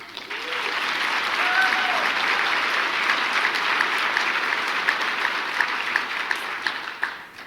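A large audience claps steadily for several seconds, a dense wash of applause that swells and then gradually thins out.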